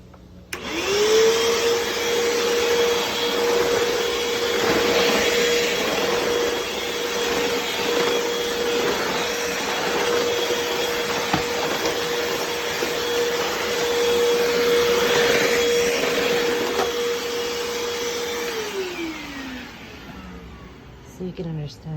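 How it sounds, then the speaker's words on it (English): A Hoover WindTunnel 2 bagless upright vacuum cleaner runs loud and close for about twenty seconds, a steady roaring whine with a sustained tone that drops away near the end, then brief clatter. "So this is the video of how this vacuum vacuums."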